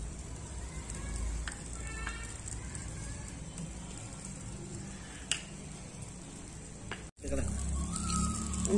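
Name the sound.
dried thorny twigs crackling as they burn in stove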